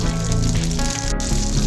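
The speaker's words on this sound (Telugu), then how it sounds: "ఆయిల్ వేడైన తర్వాత పచ్చిమిర్చి ఫ్రై చేసుకోవాలి." Green chillies frying in hot oil in a pan, a steady close sizzle and crackle running throughout without speech.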